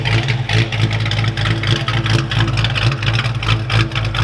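A Foxbody car's new high-compression 302 V8 running, a loud, close, lumpy idle with a choppy, pulsing rhythm and a deep throbbing exhaust note that stays steady throughout.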